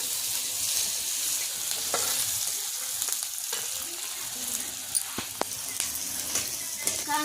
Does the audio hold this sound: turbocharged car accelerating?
no